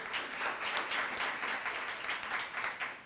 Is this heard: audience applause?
yes